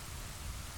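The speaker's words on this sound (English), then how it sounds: "You noticed that when we came over here, it started raining." Rain falls steadily as a dense, even hiss in The Legend of Zelda: Ocarina of Time Master Quest, loud and continuous, with no other sound.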